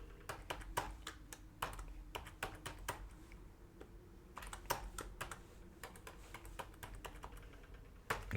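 Quiet, close typing on a computer keyboard, bursts of quick key taps separated by brief pauses, with no voices over it.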